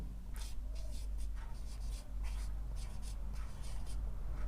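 Pen or pencil writing on paper during a math lesson, soft scratchy strokes in short repeated bursts over a low steady hum, close and quiet, with no talking.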